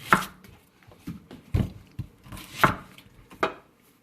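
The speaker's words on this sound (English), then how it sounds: "You want to cut up a whole entire onion." A whole onion being chopped with a knife on a board, a series of sharp, close knocks at an uneven pace, about eight cuts in four seconds, with no talking.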